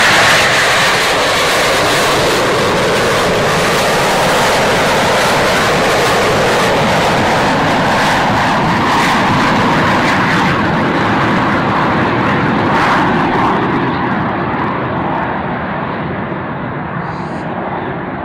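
Jet aircraft of an aerobatic display team, the same type flown by the Frecce Tricolore, roaring past in a loud, sustained wash of engine noise that slowly fades toward the end.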